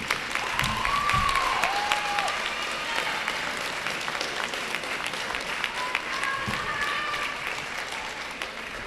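Audience applause fills an honors convocation at Ohio University Lancaster, a steady dense wash of many hands clapping that holds at one level throughout, with a faint voice or tone rising briefly above it.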